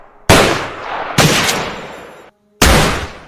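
A captain fires several gunshots, three loud close blasts each trailing off in a long echoing decay, with a short silent gap before the last.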